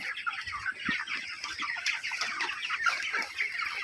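Broiler chickens in a poultry shed cluck steadily in a dense, continuous flock chatter, many birds close by with overlapping calls and no talking.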